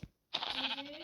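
A single sheep bleats close and loud, a wavering drawn-out call following a brief thud and a moment of silence.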